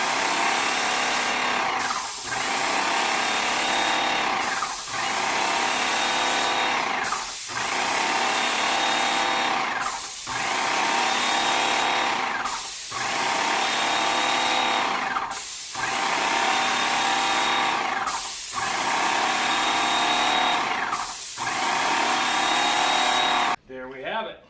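A Graco Magnum X5 airless paint sprayer pump runs in even, loud bursts of hissing spray, each cutting off sharply, repeating about every two to three seconds close by.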